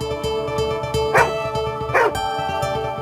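A dog barks twice in sharp, close yelps, with a busy background hum between the barks.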